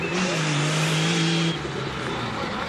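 Rally cars race on a tough course with a loud, sustained engine roar and a steady revving drone that drops off partway through, leaving a quieter engine hum.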